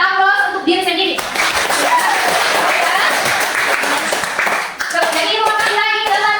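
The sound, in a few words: classroom group applauding themselves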